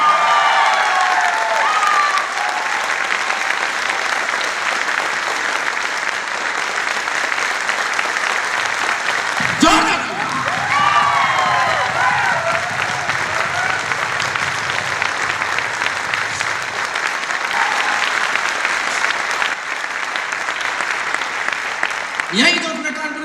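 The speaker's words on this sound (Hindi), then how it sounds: "इन गुरुजनों के लिए जोरदार ताली बजाइएगा" A large audience in a Kanpur hall claps loudly for their teachers, a sustained roar of applause with brief cheers and some voices mixed in, fading partway and swelling again toward the end.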